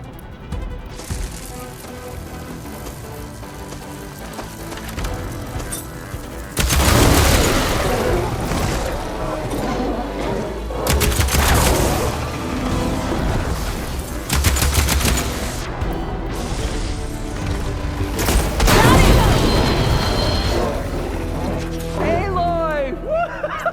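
A shotgun fired in Horizon Forbidden West, with heavy booming blasts that come in clusters amid busy combat noise and continuous game sound, while people talk over parts of it.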